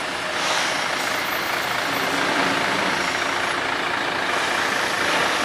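A lorry's diesel engine drones steadily in a street in Reutte, Austria, a broad, constant rumble heard fairly close with no speech over it.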